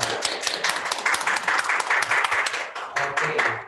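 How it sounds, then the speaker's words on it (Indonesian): Webinar audience clapping after a gaming laptop simulation, a short burst of scattered hand claps with irregular rhythm, fairly close and moderately loud, with some speech mixed in. "tepuk tangan dulu dong untuk simulasi yang tadi diberikan sama Pak Fauzi."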